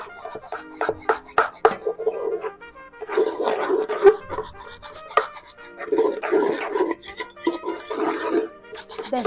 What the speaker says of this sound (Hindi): अब हमें इसे अच्छे से फेंट लेना है।